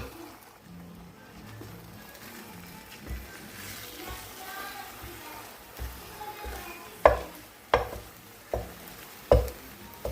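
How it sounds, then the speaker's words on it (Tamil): Beaten egg poured into a hot pan on high flame cooks with a low, soft sizzle, broken near the end by several sharp clacks of a utensil against the pan. "இப்போ முட்டை இதில் ஊற்றியாச்சு. நம்ம கொஞ்சம் வேகட்டும்."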